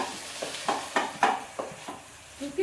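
Tomatoes mashed in a hot pan, a steady rhythm of about eight soft squelching, scraping strokes over a faint sizzle, close up and without talk.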